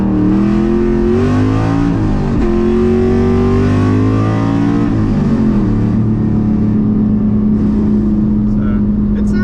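A 2001 Mustang Cobra engine revs up and down several times with a rough, rattly exhaust note from a worn-out exhaust system, loud and close throughout.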